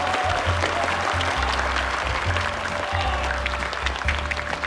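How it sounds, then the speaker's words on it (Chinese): Studio audience applauding on a Chinese drama's competition show after a round winner is announced, a steady broadband clatter of many hands with a low hum underneath, loud and continuous throughout. "大家掌声鼓励。"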